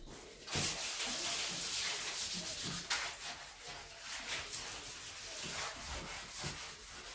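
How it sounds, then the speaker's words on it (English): A bathtub scrubbed after baking soda and vinegar are applied: loud, steady, rough rubbing strokes that continue with little pause. "it doesn't take hard scrubbing at all"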